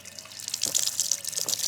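Water splashing and trickling from a public drinking fountain on a Barcelona street, a steady close hiss with soft spattering that grows a little louder partway through.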